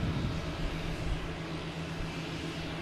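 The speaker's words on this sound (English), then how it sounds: "We have Boutique Air. We got the engine going here." A Boutique Air airplane's engine runs steadily at Boston Logan Airport, a continuous low droning rumble with a sustained hum, fairly quiet and even throughout, with no talking.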